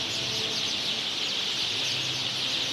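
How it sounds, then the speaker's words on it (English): A dense, continuous chatter of hundreds of small birds in a tree near the Dead Sea, countless overlapping high chirps forming a steady shimmering wash, fairly close and without talk. "There's like hundreds, thousands of little birds"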